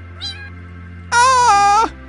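A baby cat in the Minecraft video game gives a short, high meow, then a longer, louder drawn-out mew after a brief pause, heard clearly with no talking.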